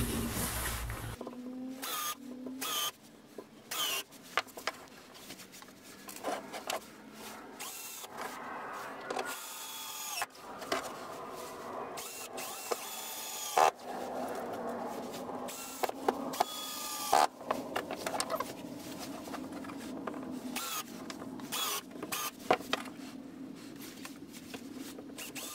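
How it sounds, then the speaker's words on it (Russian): A drill countersinks holes in wooden workpieces, 30 and 40 millimetre blanks screwed together, with repeated short whirring bursts and clattering handling sounds close by. "Также зенкуем."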